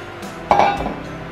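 Eggs dropped into a bowl while making a cheese pie: a single sharp clink against the bowl followed by a brief soft splash and faint ringing, close and alone.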